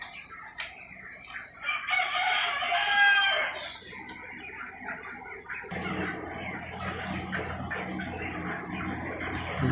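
Chickens in poultry farm cages crowing loudly and clucking nearby, a long crow early on followed by a steady busy flock murmur of clucks.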